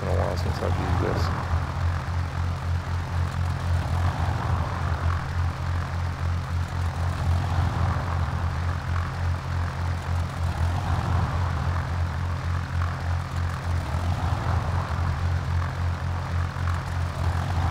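Propeller airplane engine droning in the X-Plane VR flight simulator, a steady loud low hum with strong tonal harmonics held evenly throughout, with no talking over it.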